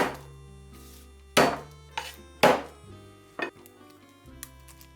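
Knife chopping parsley and garlic on a cutting board: a handful of crisp, close strikes at an uneven pace, some sharper than others, in a quiet kitchen.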